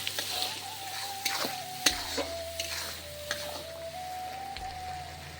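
Spice masala for chicken curry frying in hot oil while being stirred, a steady close sizzle with scraping spoon strokes and occasional knocks against the pan, no talk.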